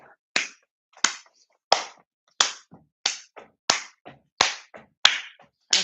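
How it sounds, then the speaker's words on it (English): Steady step-clap exercise: about nine sharp hand claps at an even pace, each followed by a softer slap of a stepping foot, close and clear with no talking. "I'm just challenging myself to move in different ways as I maintain the step clap"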